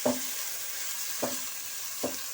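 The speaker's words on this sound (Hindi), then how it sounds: "प्याज को हम अच्छी तरह से ब्राउन कर लेंगे" Chopped onions fry in a hot pan for Pakistani-style keema, with a steady broadband sizzle and three spaced stirring scrapes.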